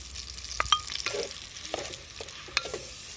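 Chopped onion fries in oil in a clay pot while a spoon stirs it, giving a soft steady sizzle broken by faint scraping and clinking.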